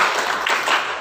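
Hands clap in a counted classroom rhythm, a few loud close claps in quick succession with no voices over them.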